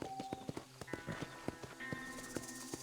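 A horse in Red Dead Redemption on Nintendo Switch clip-clops along in a quick, steady rhythm of hoofbeats, close and fairly quiet, with a faint game soundtrack underneath.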